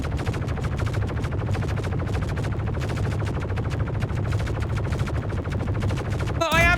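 A powerful turret in the space game Star Citizen fires continuously in a fast, even, loud rattle that runs the whole time, ending with a sharp whooshing sweep at the very end.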